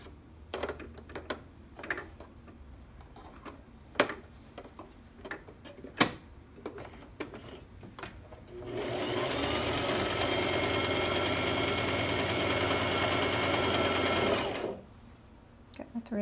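A sewing machine runs a zigzag stitch on knit fabric in one sustained, fast mechanical whir of about six seconds, preceded by scattered ticks and handling clicks and a few faint voice sounds.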